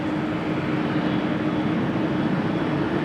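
Airplane departing in the rain at Amsterdam Schiphol Airport, heard as a steady, broad jet roar that holds at an even level throughout, with no voices.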